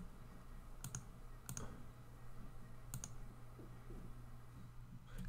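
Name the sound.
typing on a computer keyboard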